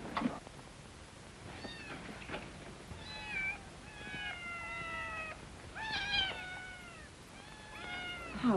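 A cat meows repeatedly, several drawn-out tonal calls in a row at moderate volume over a steady background hiss, with no talking.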